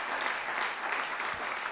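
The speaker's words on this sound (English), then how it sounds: "Clap like it's making sense." Audience clapping fills a short stretch, steady and dense throughout, with no voices over it.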